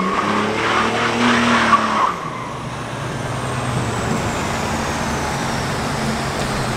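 A BMW E36 drifts, tires squealing loudly with engine roar for a couple of seconds before the sound drops to a steadier, more distant rumble of tire and road noise.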